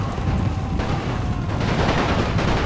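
Dense, continuous rattle of rifle and machine gun fire with distant booms from a Great War mod battle in Napoleon Total War, loud and sustained with no pauses.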